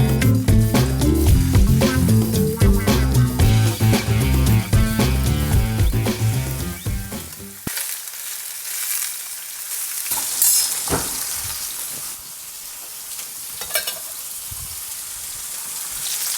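Salmon fillets frying in a pan with a drizzle of olive oil. A crackling sizzle runs steadily throughout, after a stretch of music at the start, and no talking is heard.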